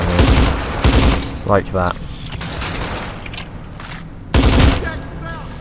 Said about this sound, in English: you take a shot every time someone looks at you. And like, every shot misses, apparently